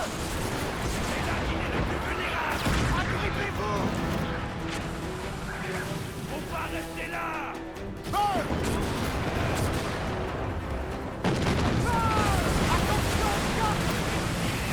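Cannon fire in the pirate game Assassin's Creed Black Flag: heavy booms and gunfire rumble over a steady wash of ocean waves, with voices speaking through the noisy battle.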